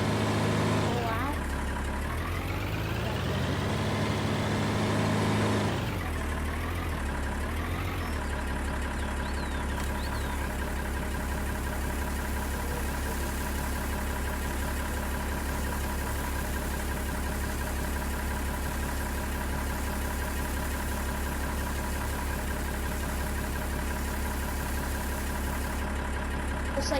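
A small farm tractor engine idles at an Alpine farm, a steady close low rumble running throughout, with a brief revving swell in the first few seconds before settling into an even idle.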